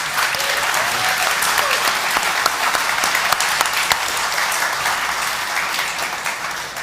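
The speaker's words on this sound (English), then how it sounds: "One more round of applause for Helium Mobile." A conference crowd applauds Helium Mobile at Helium House in New York City, a steady, dense wash of clapping that holds at full strength for the whole stretch without a break.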